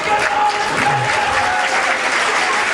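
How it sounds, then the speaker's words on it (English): A large rugby league crowd at a 1986 St Helens v Leeds playoff match applauding steadily, dense sustained clapping heard from a distance with no pauses. "And the crowd giving this lad applause,"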